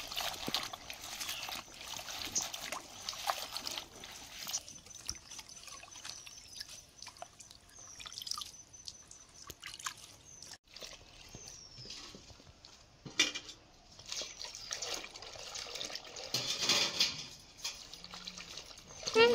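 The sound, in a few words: washing spinach greens with water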